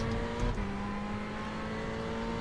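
Damaged race car at Sebring in an iRacing sim race, a steady engine drone with tonal whine held at a constant pitch, one brief dip just after the start, running alone without voices.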